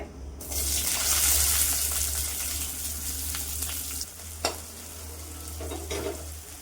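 Two large chopped onions hitting hot oil in a pan with a dried chili, a loud bright sizzle that starts abruptly, then settles into steady frying with a couple of utensil knocks later.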